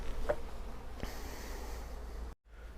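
Steady honeybee buzzing fills the scene from a hive calmed with smoke, a dense continuous hum of many bees close by, broken by a brief dropout near the end.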